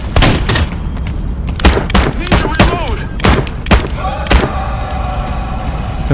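Panicked bursts of gunfire at mimics in the video game Into the Radius 2: loud, sharp shots in irregular clusters, some rapid, with ringing tails and a brief pause between volleys.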